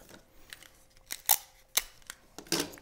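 Sharp tearing and snipping of a short piece of tape during papercraft planter assembly, a few quick crisp bursts close by in a quiet room.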